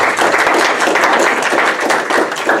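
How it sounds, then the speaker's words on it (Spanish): A church congregation bursts into loud, sustained applause, dense rapid clapping from many hands filling the whole moment without pause. "Démosle un aplauso a Jesucristo."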